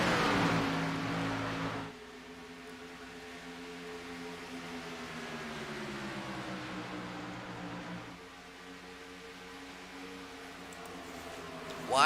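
Stock-car-style race cars circle the track, their engines droning in a steady layered hum that rises and falls in pitch after a loud burst at the start, fairly faint and without talk.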